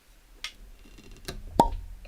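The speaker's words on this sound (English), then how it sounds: "pause for cork pop" A single sharp pop as a cork is pulled from a whiskey bottle at a bourbon tasting, heard up close after faint squeaks and scrapes of the cork working loose.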